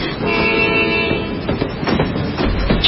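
A train runs along the rails, its steady rumble and rhythmic clatter of wheels carrying loudly and close, with no voices over it.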